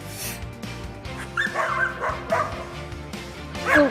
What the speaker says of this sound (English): Local shelter animals are barking with excitement.